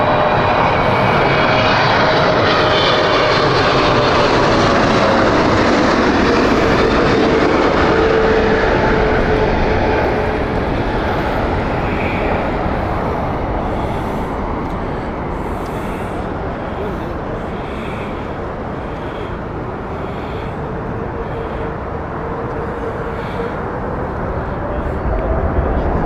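A Saudi airliner at Heathrow Airport thunders past, its loud engine roar and high whine strongest early then easing and swelling again, with a voice speaking beneath.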